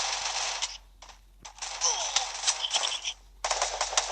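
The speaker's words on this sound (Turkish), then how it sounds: "Sıkıyorlar Enes, sıkıyorlar." Rapid automatic gunfire from the Free Fire video game, crackling in dense bursts with brief pauses between them, moderately loud and unaccompanied by talk.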